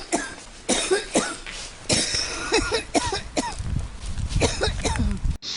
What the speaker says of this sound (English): I inhaled all the smoke into my lungs and began coughing up a storm